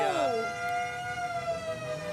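Emergency siren on an ambulance rolling slowly in a Fourth of July parade in Pittsfield, a steady wailing tone with falling pitch sweeps, loud and close, over light outdoor crowd noise.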